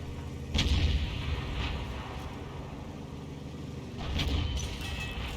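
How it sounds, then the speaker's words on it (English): Two sharp, heavy impacts, one early and one near the end, as 90mm tank shells ricochet off the armor of an M46 Patton in a tank combat video game, over a steady low engine rumble. "Patton's just bouncing rounds off the side"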